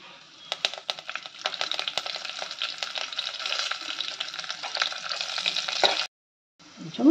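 Garlic and curry leaves frying in hot oil give a bright, steady crackling sizzle with scattered pops and stirring clicks, then cut off abruptly near the end.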